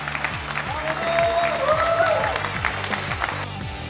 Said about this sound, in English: Come to the stage with a big applause for the number 1